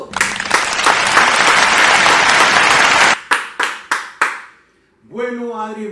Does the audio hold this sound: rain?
no